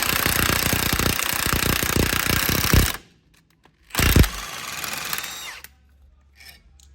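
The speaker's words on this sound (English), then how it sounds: "Then you just take an impact, snug it up," Impact wrench snugging up a wheel adapter on a Great Value drift NASCAR toy car, a loud close rattling burst for about three seconds, then silence and a second short hammering burst.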